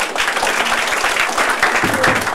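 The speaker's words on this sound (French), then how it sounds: "Vous allez le recevoir sous les applaudissements." Guests at a civil wedding ceremony applaud the newly married couple, a loud, dense and steady wash of many hands clapping throughout, with a few voices rising underneath near the end.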